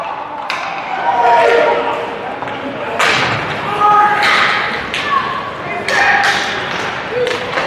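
Sharp puck shots and stick and board thuds ring out in an ice hockey game, several hard close cracks and slams spread unevenly over about eight seconds, under steady play-by-play commentary.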